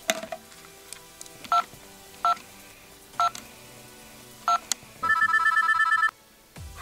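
Touch-tone phone keypad dialing: four separate short beeps spaced about a second apart, then a longer repeating tone pattern, clear and close in a quiet room.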